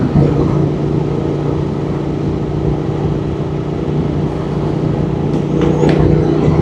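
A one-owner motorcycle engine idles steadily nearby with a low, even hum, swelling slightly louder near the end, with no talk.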